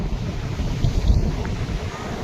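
Sea waves and current wash against a rocky, carved beach, a continuous low roar of surf mixed with wind buffeting the microphone, with no voices.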